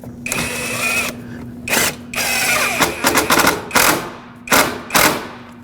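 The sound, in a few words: power tool driving screws into headlight mounting point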